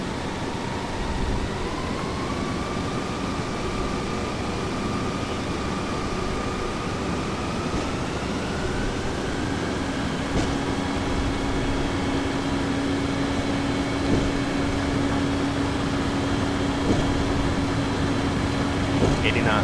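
Boeing 737 jet engines spooling up during a takeoff roll in the flight simulator FSX, a steady loud whine with rising tones over a constant roar, continuous throughout.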